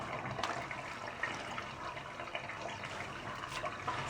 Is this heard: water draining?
yes